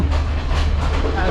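Ella to Kandy train running through Sri Lanka, heard from inside a mostly empty carriage as a steady low rumble with a rhythmic clickety-clack of wheels, close and continuous.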